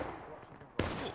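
A single sharp rifle or musket shot from a Civil War–era battle in the multiplayer game War of Rights, striking abruptly after a low murmur of background talk and leaving a sustained noisy tail.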